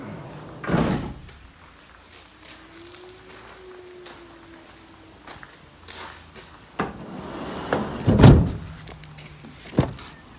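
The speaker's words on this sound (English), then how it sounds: "Check the side loading door." Side loading door of a Ford Transit L3H3 rear-wheel-drive van with hard plastic floor and ply-lined sides, heard with a few sharp thuds and a long slide before a loud, close slam near the end.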